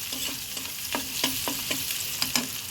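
Onions and turmeric fry in a pan under a steady high hiss, with a spatula scraping through them in several distinct strokes, close and fairly loud, no talking.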